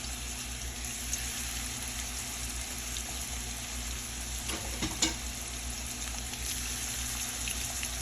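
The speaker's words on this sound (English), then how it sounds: "we're gonna add some oil to the pan. So add the shrimp." Shrimp fry steadily in oil in a pan, giving a continuous close sizzle with a few brief louder crackles and stirring clatters near the middle.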